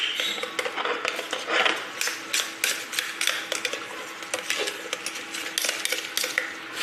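A spoon scrapes and clinks around a pan as condensed milk is stirred into boiled milk, giving a steady run of close, busy metallic scraping and tapping that continues throughout with no talking.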